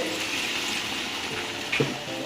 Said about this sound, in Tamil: இப்போ நாம் தண்ணியை விடுவோம்.